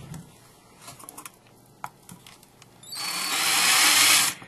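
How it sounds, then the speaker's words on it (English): A small drill bores a hole for a fitting into an aluminum soda can while building a can stove; faint taps and handling first, then a loud, steady whirring drill run of about a second and a half that stops abruptly. "drill the hole for my fitting. I do that with a 1964's drill."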